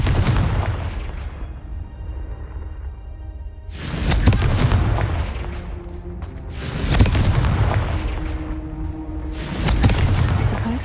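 Confringo blasting spell explosions in Hogwarts Legacy, three loud booming blasts spaced a few seconds apart, each with a long rumbling decay and debris clatter.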